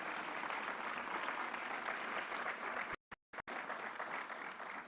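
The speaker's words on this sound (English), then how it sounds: "Let's give Carol Mason a round of applause" An audience at a gun violence announcement by Governor Cuomo applauds steadily for Carol Mason, a continuous crowd clapping broken by a few abrupt dropouts near the end.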